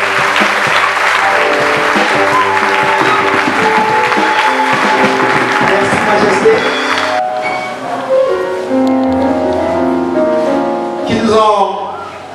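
A church congregation applauds for the Lord, loud sustained clapping mixed with music and voices that fades somewhat toward the end.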